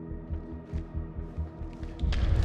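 Gunfire in the horror video game House of Ashes comes as muffled, distant thuds in a quick, regular rhythm, followed by a louder burst of rough noise at the end.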